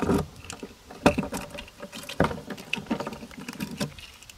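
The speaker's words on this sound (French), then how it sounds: "La trappe des bouteilles de gaz. Ouverture." Someone opens the gas bottle hatch on an Oxygen 7000C camper van, making a series of close, light plastic clicks, rattles and handling knocks.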